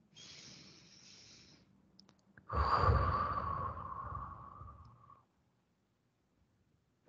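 A long, deep breath drawn in through the nose, loud and close, lasting a few seconds and tapering off, with a shorter, softer breath just before it; no talking.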